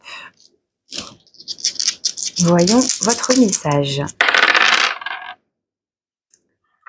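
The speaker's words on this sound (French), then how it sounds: "je prends les dés, je mélange. Alors pour les lions, mai 2023, 3 petits dés au hasard" Three small dice rattle and click as they are shaken and tossed onto a surface for a tarot-style reading, in close, crisp bursts, with someone speaking French at the start.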